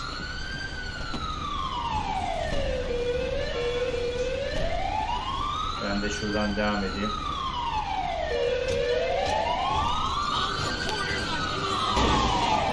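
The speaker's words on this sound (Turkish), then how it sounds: "Ambulans sapıttı ambulans." An ambulance siren in the video game GTA 5 wails in slow rising and falling sweeps, loud and close throughout, with a brief rapid yelp in the middle and someone talking over it.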